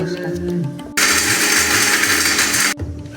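A faulty kitchen mixer grinder, making coconut chutney, whirs loudly for about two seconds in a steady broadband roar, then cuts off abruptly, with softer background sounds before and after.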